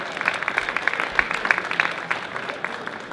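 A seminar audience claps to welcome a young speaker to a bass-fishing talk, producing a dense, even patter of many hands that holds steady, then slowly thins near the end.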